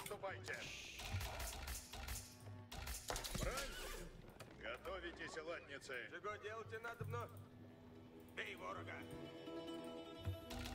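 Several horse neighs and whinnies ring out in an Age of Empires 4 match, with clip-clop hoofbeats, battle clatter and game effects, while people talk over much of the action.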